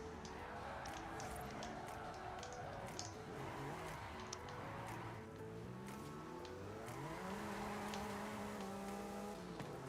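A car engine drones steadily, revving up and down through gear shifts, with faint clicks and tire noise in Forza Horizon 5.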